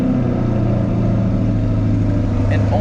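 A traded-in Corvette's engine runs loud and close, a dense, steady low rumble across the whole short stretch.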